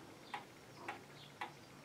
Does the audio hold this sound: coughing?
no